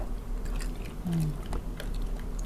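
Braised soy sauce chicken feet are chewed close to the microphone, giving soft, moist, rhythmic chewing and biting sounds over a steady low background hum.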